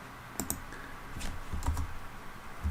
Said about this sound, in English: I will type in nav and I'll press tab